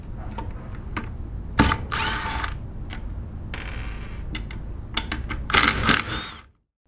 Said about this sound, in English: today we're going to use a 3/8 drive impact gun